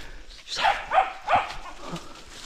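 A dog gives three short, sharp barks in quick succession, fairly close and moderately loud, followed by a faint trailing whine.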